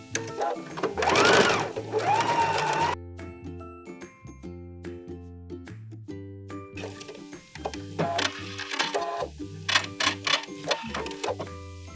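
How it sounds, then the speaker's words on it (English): A sewing machine stitching a quarter-inch French seam, bursts of rapid rhythmic mechanical ticking close up, stopping and restarting, with someone speaking over the opening seconds. "I'm gonna go ahead and make a 1/4 inch seam"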